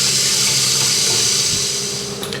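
Toilet cistern refilling with water after adjustment, a loud, steady rushing hiss close by that fades slightly toward the end, with no talk.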